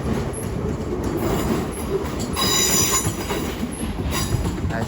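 A Class 350 electric train pulls out of London Euston, with a rumbling wheel roll, high metallic wheel squeals and faint clickety-clack, steady and fairly close.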